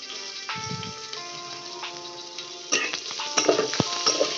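Onions frying in a pan for bhaja bhata, a soft sizzle with intermittent scraping and stirring clatter that grows busier toward the end, no speech.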